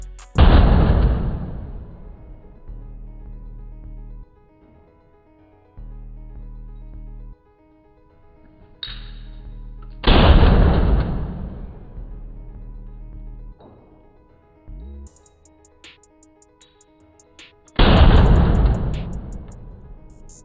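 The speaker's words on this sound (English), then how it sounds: "This Galil Ace is definitely loud, with or without a break. This thing is crazy loud." A Galil Ace Gen 2 rifle fitted with a YHM R2 T2 suppressor fires three single shots about eight to ten seconds apart. Each report is a loud, close boom with a short, fading tail, and quiet gaps lie between the shots.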